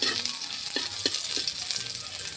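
Garlic frying in a pan until golden brown, with a continuous bright sizzle and a few clear stirring knocks, close and loud.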